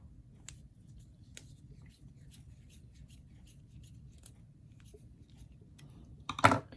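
A small step screw on the front axle of a 3Racing EX Real RC crawler chassis is tightened, giving faint, sparse metallic ticks and clicks over near silence, then a brief louder scrape near the end.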